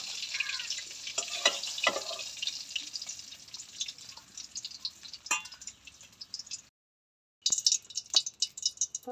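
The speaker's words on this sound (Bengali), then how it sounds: "সুন্দর করে ভেজে নেবেন মাছগুলো" Pieces of katla fish fry in hot oil with a steady sizzling hiss and scattered pops and crackles, close by, broken by a short silent gap before the sizzle returns.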